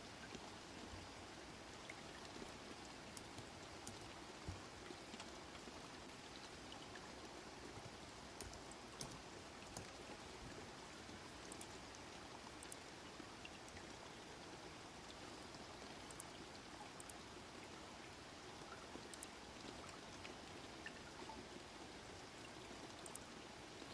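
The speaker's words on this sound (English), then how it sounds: "But it's raining" Rain falling in The Sims 4 at a beauty store, a steady soft patter with faint scattered drops ticking throughout, quiet and continuous with no talk.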